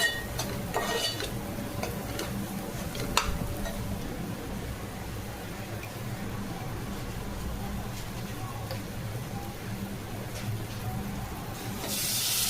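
Onion, tomato and masala paste frying in oil in a pan, a steady close sizzle with occasional clinks of a spoon stirring, and someone talking over it.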